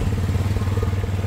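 A motorcycle on a rough street, a close, rumbling low engine drone with rapid pulsing beats and some clatter, steady through a brief moment.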